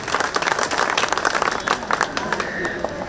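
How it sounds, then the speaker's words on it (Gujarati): An audience applauds at an honouring ceremony during a group cycle yatra, a dense, steady burst of clapping from a crowd that lasts for a few seconds. "મિત્રો એકવાર જોરદાર તાળીઓથી વધાવી લેજો"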